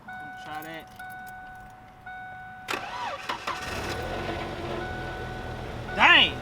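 A Chevrolet El Camino that has run out of gas, its engine cranking over with a starter whir after keys jangle and chime tones sound, the motor turning without catching, close by with a voice speaking.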